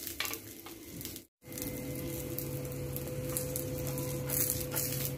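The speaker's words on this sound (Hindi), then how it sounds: "तो अब इसमें हम सारी मिर्च डाल देंगे, अब इन्हें अच्छे से हम फ्राई कर लेंगे" Small green chillies fry in a pan with a soft, steady sizzle and faint crackle, interrupted by a moment of silence before resuming evenly.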